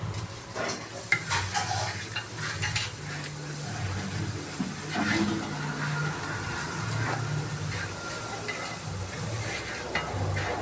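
Green beans frying in hot oil with green chillies for a Kerala-style mezhukkupuratti, a steady close sizzle broken by repeated scraping and clinking of a spoon stirring the pan.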